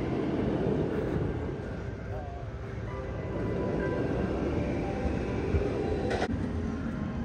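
A steady low rumble of a train rolling past at SeaWorld Orlando, continuous and fairly loud throughout, with rail noise and a brief squeal near the end.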